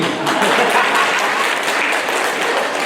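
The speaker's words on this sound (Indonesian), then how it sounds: "tepuk tangan Romo Felix" Dense, steady applause from an audience during a governor's visit with the secondary education office in Ende Regency, loud and continuous throughout.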